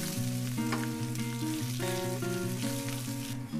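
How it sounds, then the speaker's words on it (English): Turmeric, cumin and coriander get stirred into a hot pan for kitchari, a steady frying sizzle up close beneath background music. "So mixing that up now, give that a really good stir"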